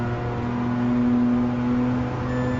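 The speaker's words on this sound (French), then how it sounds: "Ah oui, c'est le rupteur." Gran Turismo Sport car engine held at the rev limiter, a steady loud buzzing drone with a fixed pitch and little variation, no voices.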